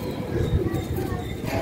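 Pigeons in a loft coo in low, throaty, repeated rolls close by, a steady soft burbling that continues through the whole moment with little else around it.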